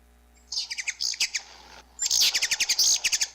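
Electronic bird call from a handheld bird sound identifier toy, a series of bright, rapid chirps in two bursts played close and loud, with a short pause between them.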